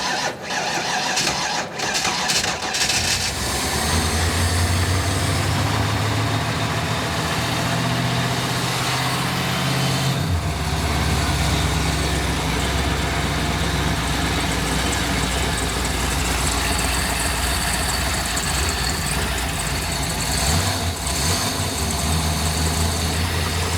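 Mastercraft Prosport 205 boat engine, jump-started after thawing, cranks briefly, catches and settles into a loud steady idle, with a short rev change midway and near the end.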